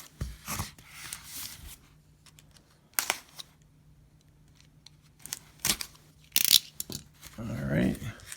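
Comic book shipping packaging is cut open with sharp snips and crinkling rustles. Quiet talk runs between the cuts.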